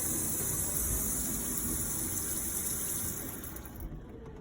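A battery-powered Zurn sensor faucet, model Z6913, Z6915 or Z6922, runs during a test, giving a steady close rush of water that softens and thins over the last second as the flow stops.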